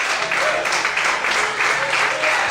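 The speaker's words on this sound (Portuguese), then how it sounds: "Você pode aplaudir o Senhor nessa noite." A church congregation applauds during an evening service, with loud, dense clapping that holds steady throughout, close and continuous, with a low hum underneath.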